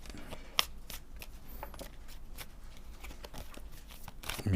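Tarot cards being shuffled by hand, a steady run of soft riffling and flicking with a sharper snap early on, close and quiet with no talking.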